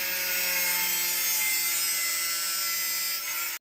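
A power drill runs outside during a small home project, giving a steady, faint mechanical whine that holds almost unbroken for several seconds before cutting off abruptly at the end.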